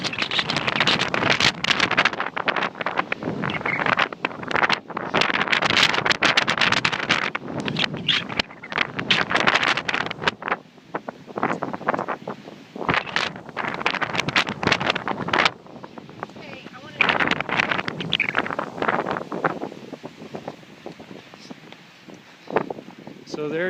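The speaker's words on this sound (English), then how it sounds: "It's really windy up here today" Strong gusts buffet the microphone on the lookout atop Apgar Mountain in Glacier National Park, loud roaring bursts rising and falling throughout, easing briefly before surging again.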